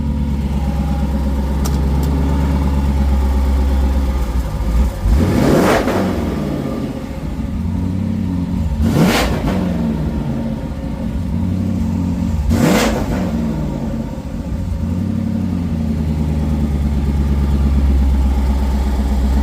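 A Ford Ranger truck engine runs steadily at close range, with three brief revs rising and falling over the continuous low idle rumble.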